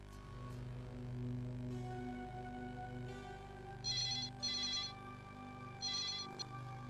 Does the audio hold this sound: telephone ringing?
yes